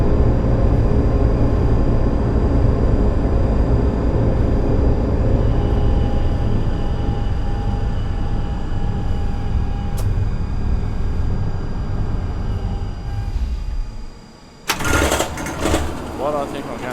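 Tram running in the TramSim Munich game, a loud steady rumbling engine-like drone with a rising whine that holds for most of the clip, then briefly drops out before resuming.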